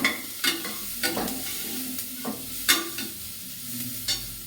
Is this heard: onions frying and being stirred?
yes